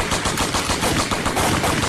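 Dense, continuous burst of rapid gunfire, loud and close, filling the whole two seconds without a break and with no voices, as in a reenactment of the Saint Valentine's Day massacre.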